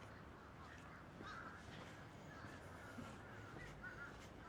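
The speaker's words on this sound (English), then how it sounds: "let's follow the birds" Crows cawing outdoors along a small-town main street in Warsaw, North Carolina, scattered calls at moderate distance over steady outdoor background noise.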